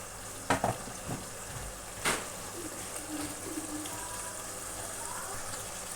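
Masala with chickpeas fries and is stirred in a pan, a quiet sizzle under a few sharp clatters of the spoon against the pan early on.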